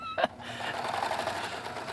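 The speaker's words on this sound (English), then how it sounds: "I'm just going to start serging." Serger sewing machine stitching along fabric, a fast continuous whirring hum that starts with a brief sharp burst and then runs steadily at close range.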